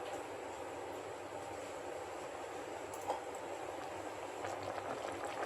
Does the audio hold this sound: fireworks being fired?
no